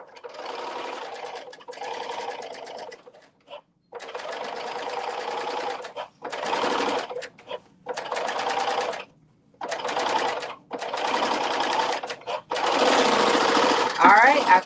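A serger overlock sewing machine runs in repeated bursts, stitching fabric at close range with a rapid mechanical whir that starts and stops about eight times, broken by short pauses.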